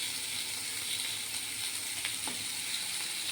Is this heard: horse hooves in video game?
no